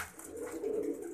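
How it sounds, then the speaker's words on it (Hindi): A Sialkoti champion pigeon gives a single soft, close coo that swells and fades over about a second, alone with no talk. "ये भी किसी का चैंपियन कबूतर है"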